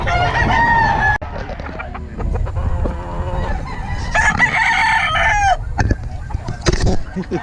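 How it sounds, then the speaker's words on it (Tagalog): Several chickens cluck and a rooster crows repeatedly, loud and close, with farmyard bustle and a voice briefly in the background. "Dami manok nandito ni Boss Eric."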